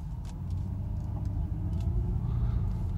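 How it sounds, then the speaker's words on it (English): A Mercedes engine idles with a steady low rumble, close and even, while a few faint higher ticks and clicks sound over it. "Just pull out and then I can idle it outside the driveway here."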